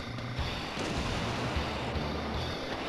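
Bomb explosions in the arcade shoot-'em-up DoDonPachi form a loud, continuous rumbling roar with crackling blasts layered throughout.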